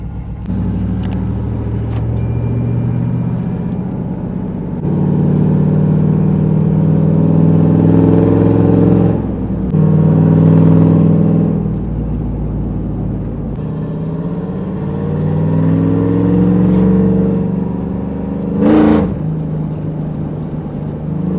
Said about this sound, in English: let's go ahead and get her started. A little cold start, got to have the valve open.